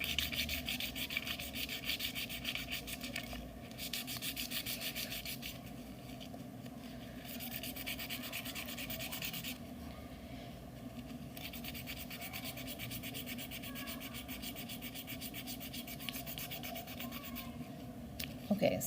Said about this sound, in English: Now I'm sanding whole of the surface.